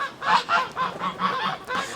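Geese honk at a farm coop in a steady series of about seven loud, close calls with no pauses longer than a beat.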